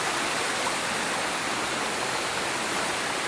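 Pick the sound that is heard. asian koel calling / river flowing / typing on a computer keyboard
river flowing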